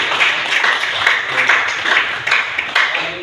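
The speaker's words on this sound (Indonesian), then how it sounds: "Oke, tepuk tangan dulu." A classroom group claps together in a steady, fairly loud round of applause lasting a few seconds, the claps blending into a dense, rhythmic patter with no talking.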